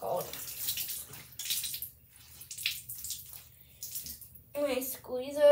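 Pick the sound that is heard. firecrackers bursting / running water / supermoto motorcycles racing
running water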